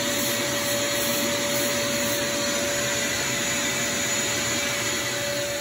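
A spray gun hisses continuously as it applies black paint to a '33 car body, a steady, loud, unbroken rush of air with no pauses.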